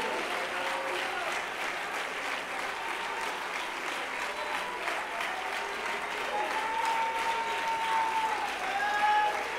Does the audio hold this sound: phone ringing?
no